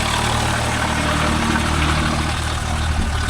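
A Swaraj 744 FE tractor engine runs steadily in a dryland field while pulling a 9-point spring cultivator, a loud, low, continuous diesel rumble heard up close.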